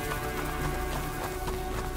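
Horse galloping in the video game A Plague Tale: Innocence, a steady rapid clip-clop of hooves close by under a dense layer of game ambience and music, with no voice in the clip.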